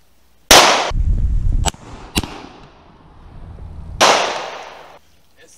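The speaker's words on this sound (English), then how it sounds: "I'll be throwing the bottle myself and shooting it also myself." Gunshots fired at a thrown bottle outdoors: two loud, sharp nearby cracks several seconds apart, each with a short echoing tail, plus a brief smaller snap between them.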